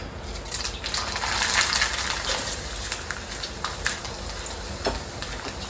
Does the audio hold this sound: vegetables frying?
yes